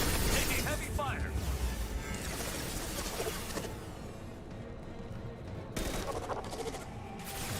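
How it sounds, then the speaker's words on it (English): Heavy gunfire in the video game Mass Effect 2: a dense, continuous barrage of shots and impacts mixed with combat noise and scattered voices, easing midway and then picking up again near the end. "Taking heavy fire."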